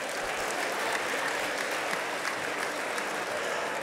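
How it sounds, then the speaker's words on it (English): A banquet-hall audience at an annual fellowship dinner claps in a sustained, even round of applause, heard fairly softly and without speech over it. "give him another round of applause for knowing the third verse"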